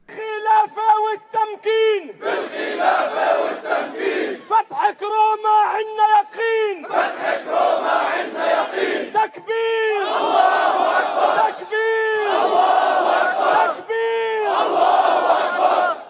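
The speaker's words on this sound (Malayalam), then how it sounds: "തക്ബീർ വിളികളോടെ വലിയൊരു ജനക്കൂട്ടം ഉച്ചത്തിൽ ഏറ്റുപറയുന്നത് വീഡിയോയിൽ വ്യക്തമാണ്" A large crowd loudly chants takbir slogans in repeated rhythmic bursts: massed voices rise together, break off, then surge again for the full stretch.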